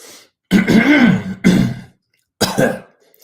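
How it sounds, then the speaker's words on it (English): A person clears their throat three times in rough, harsh bursts separated by short pauses, close and fairly loud. "I'm clearing my throat just in case I do have to."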